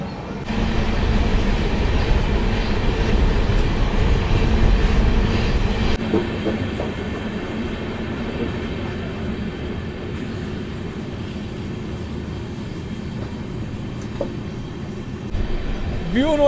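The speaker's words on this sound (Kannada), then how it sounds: "ವೀಕ್ಲಿ ಎಕ್ಸ್ಪ್ರೆಸ್ಸು 5:30 PM ಇದು ಚಿಕ್ಕಮಂಗ್ಳೂರಿಂದ ಹೊರಟೋದು" A weekly express train leaves Chikmagalur on its inaugural run toward Tirupati via Bengaluru: a loud, steady rumble of rolling wagons with clickety-clack that drops to a lower, quieter drone partway through.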